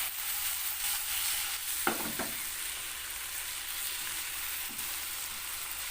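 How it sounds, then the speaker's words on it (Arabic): Shrimp frying in a pan with a little olive oil, a steady, loud sizzle throughout with a couple of brief scraping stirs near the start and no talk. "درت القمرون في المقله، دابا غادي نشحرو بشويه زيت الزيتون"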